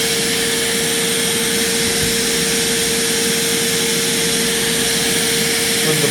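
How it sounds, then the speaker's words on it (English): A Rubbermaid PH12 vacuum running on one of its two motors, a steady loud whooshing roar with a constant whine, unbroken from start to finish. "I'll just start it off with a single motor first."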